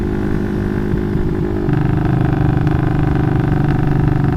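A Requsan Special aftermarket exhaust on a 180cc motorcycle drones loud and close at a steady idle, then steps up to a higher, rougher revving roar that holds to the end, with no voices.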